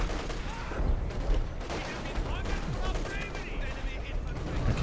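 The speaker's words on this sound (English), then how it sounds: "105mm artillery barrage coming in somewhere" A 105mm artillery barrage in a war strategy video game, heard as a dense, continuous rumble of overlapping blasts and crackling fire, loud and sustained throughout with no pauses.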